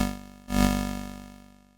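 Single sustained 8-bit style lead synth note through a Monarch filter with added resonance, a brief dip then a bright swell that slowly decays, buzzy and crunchy with no voices.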